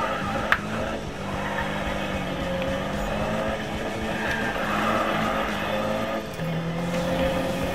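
A car drifting in the Need for Speed video game, a continuous engine drone with shifting pitch and some tyre-like roar, loud and steady throughout with a brief click near the start.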